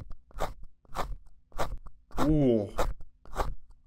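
Purple sand being cut with a blade gives repeated crisp crunching bursts, about six evenly spaced, with a brief voiced exclamation in the middle.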